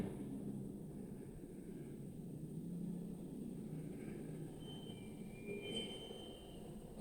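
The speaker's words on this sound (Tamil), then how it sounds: "இந்த ட்ரெயின் ஸ்லோவாக தான் போகுது." A suburban train on the Velachery to St Thomas Mount route rolls slowly past, its steady rumble continuous with faint wheel squeals rising briefly near the end, heard alone without talk.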